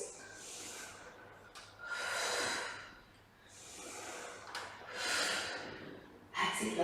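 Heavy, deliberate breaths during an intermediate reformer Pilates workout, with four long, airy inhale-exhale swells spaced about every one and a half seconds, close and fairly loud.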